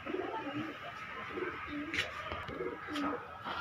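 Pigeons coo at a market stall in Gollamari, Khulna, giving repeated low, rolling coos in a steady rhythm, close and fairly loud over a continuous background hum of the market.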